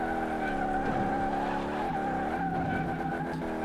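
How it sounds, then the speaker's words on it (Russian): A Ford Mustang drifting in the Car Mechanic Simulator game, with a sustained high tire squeal and a revving engine whose pitch sweeps up and down throughout, loud and continuous without talk. "а мы тут просто дрифтим на мустанге, получается, Кена Блока"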